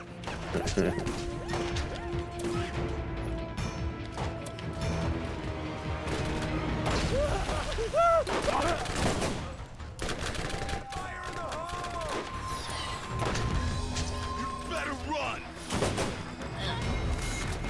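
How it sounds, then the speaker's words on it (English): Rocket launcher fire and explosive blasts in the video game Borderlands, repeated heavy booms and crashing impacts mixed with gunfire in a chaotic firefight, loud and continuous, with game voices and talking in between. "Somebody shooting rockets. Is that a rocket?"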